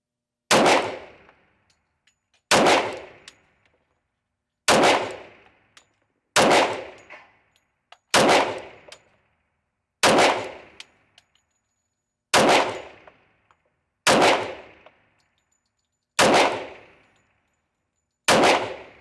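An HK45 pistol fires about ten single shots at a shooting range, each sharp bang ringing out loud and close with a short decay, spaced roughly two seconds apart.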